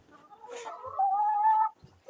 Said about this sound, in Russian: они максимум, что они могут издать, какой звук, так это вот такое пищание или они могут покурлыкать